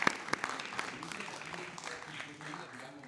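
Audience applause at a school short-film screening and debate, dense and steady through the clip, starting with a few sharper claps and fading slightly toward the end.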